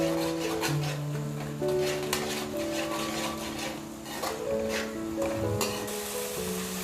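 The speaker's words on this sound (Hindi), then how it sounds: "अब हमारी दही में उबाल आ गया है।" Yogurt boils in a pan for potato dum biryani, giving a faint, continuous crackling bubble beneath steady instrumental music that plays throughout.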